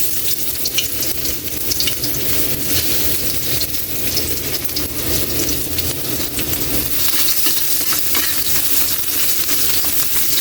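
Garlic sautéing in hot cooking oil for a Filipino mussel dish, making a loud, dense, continuous sizzle and crackle up close, with occasional stirring over the top.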